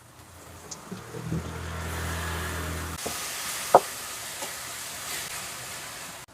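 Onion and tomato sauté in hot oil for a fish curry, a soft continuous sizzle with a low hum underneath and an occasional sharp clink of a utensil against the pan.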